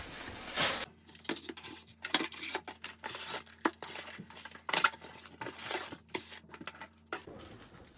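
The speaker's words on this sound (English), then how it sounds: "here we have the 2 bowls that we are going to use to process the food in" Plastic Ninja stackable chopper bowls are unpacked and handled, quiet close clacks, taps and rustling knocks scattered irregularly throughout with no voices.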